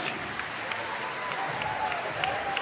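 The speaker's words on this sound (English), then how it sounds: "Crowd's getting into it." A crowd at a high school wrestling match between Tahoma and Orting claps and cheers. The applause is a dense, steady patter with scattered louder claps.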